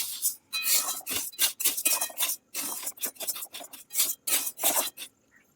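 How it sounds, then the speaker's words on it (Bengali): Dry sago being stirred in a dry wok over a low gas flame gives off rhythmic raspy scraping strokes, close and fairly quiet, repeated in quick bursts with brief pauses. "সাবুটা শুকনো কড়াইতে নেড়ে চেড়ে নিচ্ছি গ্যাসের ফ্লেম লো রেখে"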